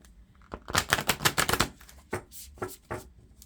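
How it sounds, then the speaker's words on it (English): A quick flurry of crisp riffling and slapping oracle card sounds, close up, followed by a few separate taps as the deck settles, with no talking. "I'll shuffle it a couple times"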